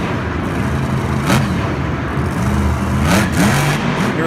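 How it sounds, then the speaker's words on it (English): Dragonoid monster truck engine revs at Monster Jam in Houston, a loud rumbling idle broken by two sharp blips of throttle against steady crowd and arena noise. "This Dragonoid truck is going to get ready to let loose and freestyle in Houston"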